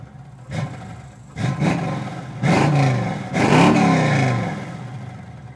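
Exhaust of a 1976 Chevrolet Nova, heard close outside the car, rises and falls through several throaty revs with rumbling tails between blips.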